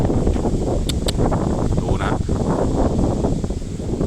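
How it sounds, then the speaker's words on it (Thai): Strong gusting wind buffets an open-air outdoor cinema screen setup as a storm approaches, roaring loudly and steadily into the microphone throughout, with brief rustling and a faint voice at moments. "โอ้ลมแรงจริงๆครับ"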